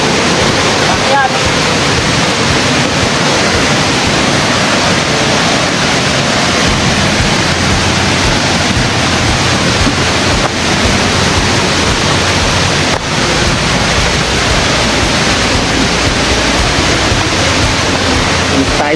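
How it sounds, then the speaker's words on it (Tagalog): A hidden waterfall at Hulugan Falls roars loud and unbroken from nearby, a dense, steady rush of falling water that fills the whole span. "Ito yung pangalawang falls. Hidden falls."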